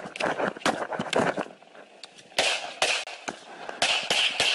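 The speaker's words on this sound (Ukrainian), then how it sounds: "Далі чути постріли." Gunshots ring out in footage of a shooting of police officers, a rapid volley of sharp cracks, then a short lull before another burst of closely spaced shots.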